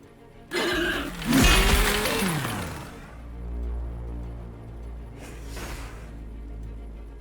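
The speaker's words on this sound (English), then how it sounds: "you can throw a grenade at nothing" Grenade blast in the Warhammer 40,000: Battlesector strategy game, a sudden loud shattering crash with debris that decays over a couple of seconds, followed by a low rumble and a second fainter burst.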